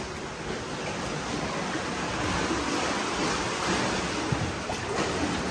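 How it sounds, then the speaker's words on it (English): Sea waves break in Thornwick Bay, a steady, close roar of surf and wash with slight swells in loudness and no talking. "Say them waves are getting quite big now"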